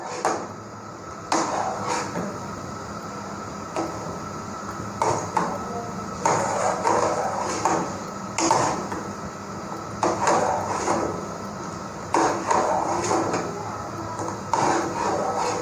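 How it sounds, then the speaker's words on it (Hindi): A spoon stirring thickened, boiling milk in a pot for a chocolate ice cream bar mixture, with repeated soft scraping and knocking strokes against the metal at an uneven rhythm, close and moderately quiet. "तकरीबन 1 मिनट हम और इसमें चम्मच चलाते हैं।"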